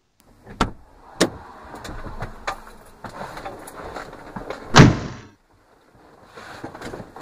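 Car door sounds near a car the boss walks to, with sharp thumps and clunks over a low rumble and one loud slam near the end, then quiet.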